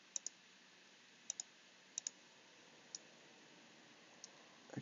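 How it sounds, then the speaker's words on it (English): Faint computer mouse left clicks during sculpting in Meshmixer: a handful of quiet, sharp taps, some in quick pairs, over a soft background hiss. "so just left clicking, just little tiny clicks."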